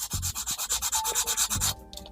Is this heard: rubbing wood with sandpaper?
yes